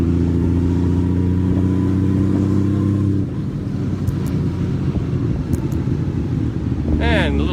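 Motorcycle riding through busy Tokyo city street traffic, with a steady loud engine hum and drone of surrounding vehicles throughout, shifting to a rougher broadband roar partway, plus brief high chirps near the end.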